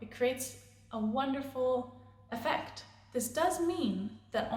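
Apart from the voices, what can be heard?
No everyday noise stands out behind the speech.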